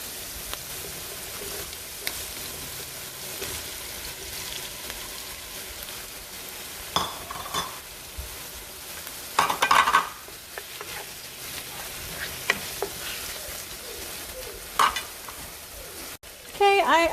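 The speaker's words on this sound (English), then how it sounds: "I fry my onion with the garlic until the onion caramelizes. Now I'm gonna add the next ingredient," Tomato hits a pan of caramelized onion and garlic for Mexican-style calabacitas and sizzles steadily, with the scrape and clatter of stirring rising now and then above the constant frying hiss.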